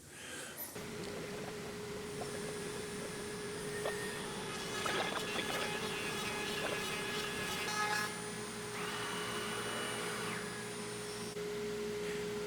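A router makes a light surfacing pass over wood and epoxy, a steady high motor whine with a droning hum and intermittent cutting scrapes, loud and close with no talking.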